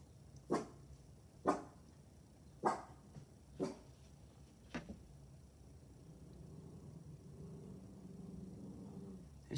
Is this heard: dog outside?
yes